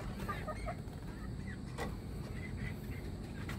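Chickens cluck softly in the background, short scattered calls over a steady low ambient hum.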